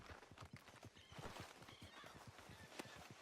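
A horse in the Red Dead Redemption 2 western video game clip-clops in a quick rhythmic run of hoofbeats, with a short whinny rising briefly over them. Faint and steady throughout.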